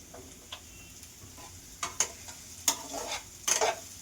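Potato filling for aloo kachori is stirred and roasted in a pan, with a soft sizzle underneath and several sharp scraping clinks of the spoon against the pan, growing more frequent toward the end.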